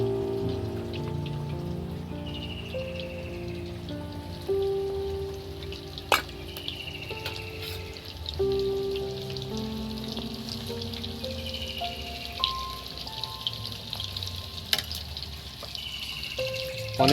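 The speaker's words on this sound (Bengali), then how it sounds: "এখন কিন্তু খুব জোরে বৃষ্টি হচ্ছে না, হালকা হালকা ঝিরিঝিরি টুকটাক বৃষ্টি চলছে" Light drizzling rain patters in soft, scattered drops, a quiet continuous hiss beneath occasional faint tonal sounds, with no talking.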